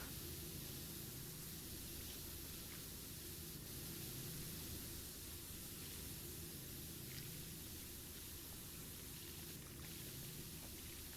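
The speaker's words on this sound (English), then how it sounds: "I'm up here spraying all this water." A pressure washer in PowerWash Simulator sprays water in a steady, unbroken hiss that stays faint and continuous throughout, with no other sounds over it.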